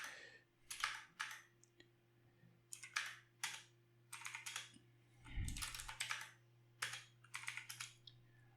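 Quiet bursts of clicky typing on a computer keyboard as terminal commands are entered, short clusters of keystrokes separated by pauses over a low steady hum.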